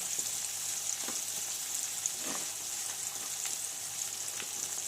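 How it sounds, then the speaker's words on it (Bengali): Potatoes and spices with salt and turmeric fry in a pan, a faint steady sizzle with occasional soft stirring scrapes, close and quiet with no talk. "ভালো করে মশলাটা কষে নেব"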